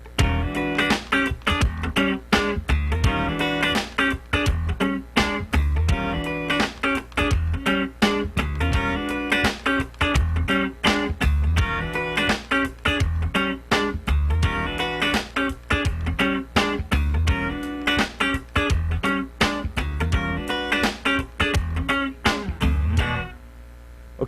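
Funk rhythm guitar with a swing feel, tight percussive chord stabs and muted scratches repeating steadily and loudly for the whole stretch, close and alone with no talking, ending abruptly.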